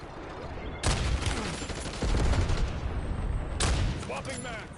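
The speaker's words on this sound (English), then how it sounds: "Incoming fire." Gunfire erupts in a video game firefight: dense, loud bursts of rapid shots and booms in several waves, with voice chatter faintly underneath.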